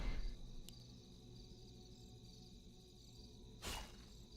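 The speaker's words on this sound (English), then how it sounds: "We hear some crickets chirping." Faint, steady video game cricket chirping fills a quiet night-like ambience in a Warcraft III map, broken by a soft click early on and a brief whoosh near the end.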